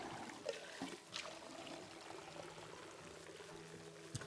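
Water pours and trickles onto a plant in the video game It Takes Two, a faint, steady stream with small splashes.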